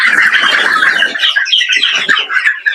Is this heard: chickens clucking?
yes